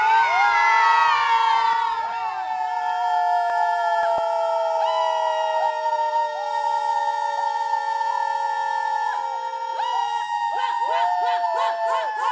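A crowd at a public event screams at length, many high wailing voices overlapping loudly and sustained for over ten seconds before breaking into choppier yelps at the end.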